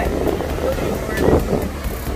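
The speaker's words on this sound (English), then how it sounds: "It's really windy" Strong wind at the beach buffets the microphone in a loud, continuous roar with gusty swells, close and unbroken throughout.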